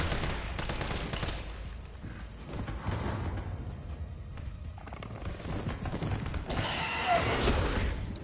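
Gunfire in the Resident Evil 3 Nemesis video game, with rapid repeated shots and booming impacts in dense bursts, loud and continuous over game noise, with no talking.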